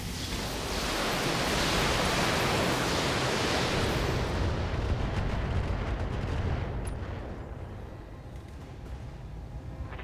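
Mech weapon systems firing all at once in the BattleTech video game, a dense roaring barrage that fills the whole clip, loud and continuous, easing off slightly toward the end with no voices.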